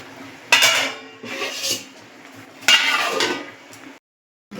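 Paneer is stirred in a metal pot on medium heat, with clattering scrapes of a utensil against the pot, and then a lid clanks down to cover it. The clinks come close and loud, followed by brief silence.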